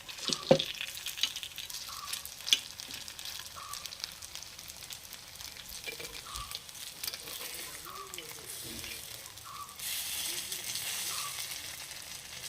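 Appam batter fries in a pan with a steady soft sizzle, broken by a few clinks and scrapes as the appam is flipped, close and moderately quiet.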